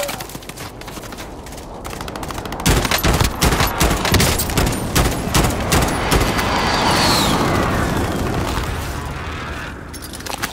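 Dense rapid gunfire in the Warzone video game, loud bursts of automatic fire and sharp shots close by for several seconds, fading into a rumbling ambience.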